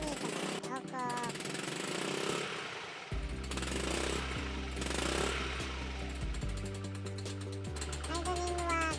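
A Yamaha Majesty 125 scooter with a freshly swapped engine idles at very low rpm, a steady low throbbing hum running under talk, with a rougher mechanical clatter in the opening seconds.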